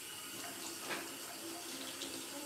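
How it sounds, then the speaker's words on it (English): A sink tap runs steadily, with water splashing as hands are rinsed under it. The sound is soft and continuous, close by, with a faint voice in the background. "I just want to rinse my hands off"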